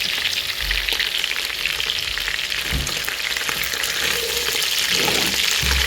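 Carrot sizzling in a hot pan while cooking fried rice with chicken and cashew nuts, a steady close frying hiss with occasional stirring scrapes and low thumps.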